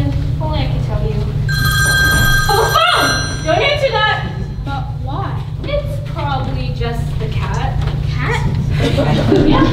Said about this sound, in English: Oh, the phone! Don't answer that!